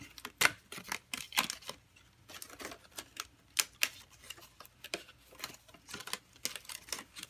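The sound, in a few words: popping die-cut paper pieces out of a card kit sheet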